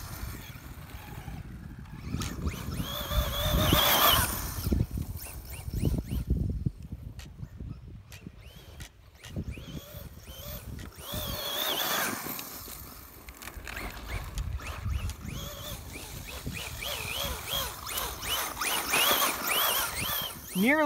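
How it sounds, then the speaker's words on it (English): A Traxxas Slash 2WD VXL RC car pushes through grass outdoors, its electric motor whining and surging in waves over rustling and thrashing, fairly faint and somewhat distant. "The two-wheel drive Slash has the power, the VXL power, to just power right through it and get through that grass."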